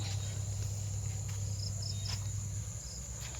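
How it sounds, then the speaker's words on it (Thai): Frogs call in rice fields among a dense, steady night chorus with shrill insects, continuous and fairly loud throughout, with no voices. "เสียงกบ เสียงเขียด"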